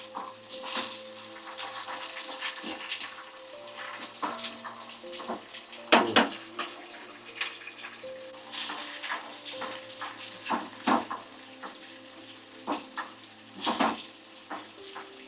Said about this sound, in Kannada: ಟೊಮೆಟೊ ಹಾಕ್ತಾ ಇದ್ದೀನಿ.